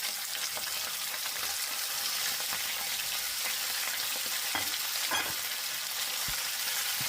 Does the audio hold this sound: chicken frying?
yes